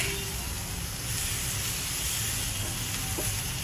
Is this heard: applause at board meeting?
no